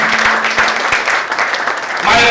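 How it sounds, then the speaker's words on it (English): Audience clapping for fathers at a gathering, a steady burst of many hands applauding throughout, with a voice speaking over it near the end. "Clap for your father too, clap for your father."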